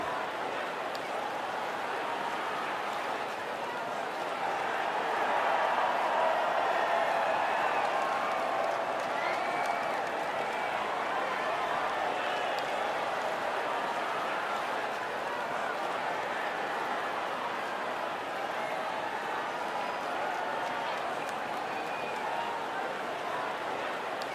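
Crowd cheering and applause at a podium celebration in the F1 24 racing game, a dense continuous roar of clapping and cheers lasting the whole time at steady volume, with a commentator's voice under it.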